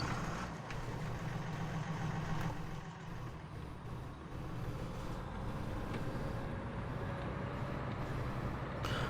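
A Ford tractor engine in the farming video game Farming Simulator 19 drones steadily for about nine seconds, a low, even idle rumble that is moderately loud and dips only briefly near the three-second mark.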